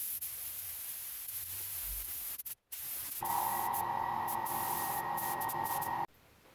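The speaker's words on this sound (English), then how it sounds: "let's go ahead and lay some silver base" A spray gun lays silver base coat over freshly sealed car bodywork for a candy paint job, a steady close hiss with a brief break, then a stronger tonal spray tone.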